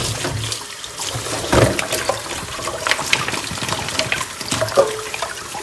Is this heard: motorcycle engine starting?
no